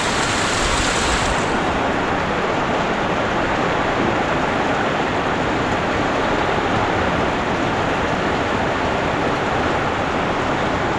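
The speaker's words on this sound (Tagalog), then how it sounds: "Inabot ng ulan si Kuya Boy" Heavy rain pours down in a steady, dense hiss that holds constant, loud and close, with no voices over it.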